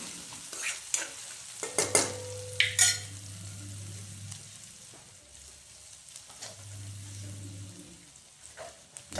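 Something frying in hot oil as the base for a vegetable soup, a soft sizzle with a few sharp stirring scrapes and clinks early on and a low hum underneath, no voices.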